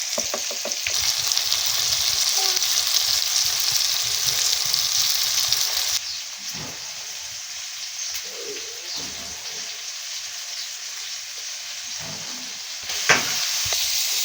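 Broad beans and tomato pieces fry in hot oil, a steady close sizzle that drops a little softer partway through as the pan is stirred, with a brief scrape near the end.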